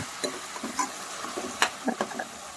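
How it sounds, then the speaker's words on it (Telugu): Sliced onions fry in oil in a pan for a small-fish curry, with a steady sizzle broken by several sharp scraping stirs of a spoon against the pan, close and fairly quiet. "చక్కగా ఆయిల్ వచ్చే వరకు వేపుకోవాలండి"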